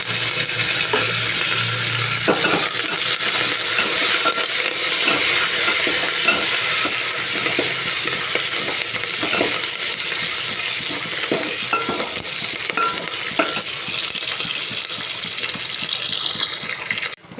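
Onion and curry leaves frying in a pan give a loud, continuous sizzle with occasional stirring scrapes, close and steady the whole time, with no voices.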